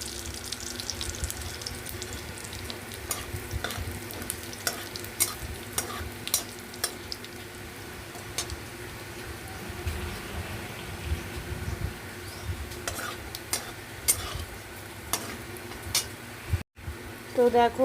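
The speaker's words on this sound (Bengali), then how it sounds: "জিরে ভেজে তুলে নেব" Cumin seeds fry in hot oil in a wok, giving a steady close sizzle with scattered crackles and occasional stirring clatter, while a voice talks intermittently over the cooking.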